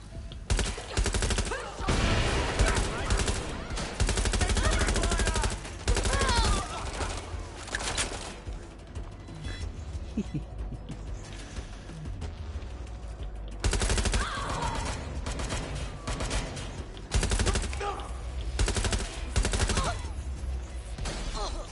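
Gunfire in Watch Dogs Legion, dense bursts of automatic fire and rapid shots in loud clusters, pausing briefly before erupting again.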